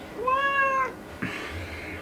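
A house cat gives a clear rising-and-falling meow lasting almost a second, followed by a shorter, breathier second call, both close and alone indoors.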